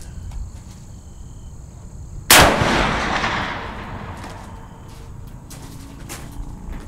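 A single loud .444 rifle shot fired at a target 200 yards away cracks sharply, then leaves a long fading echo over quiet outdoor background.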